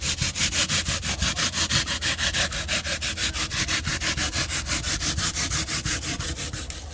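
A pole saw cuts through foam on the roof of a failing Winnebago motorhome in steady, rapid back-and-forth strokes, a continuous rasping scrape with a regular pulsing rhythm, close and fairly loud, with no talking.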